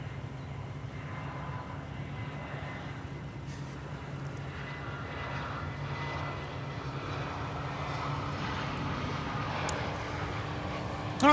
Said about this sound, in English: now on final approach from Paris Charles de Gaulle, Air France 634 Heavy with a 777-200 ER